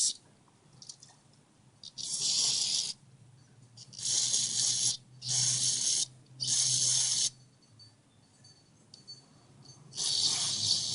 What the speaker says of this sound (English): I'm just going to give it a quick spray down